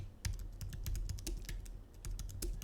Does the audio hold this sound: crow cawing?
no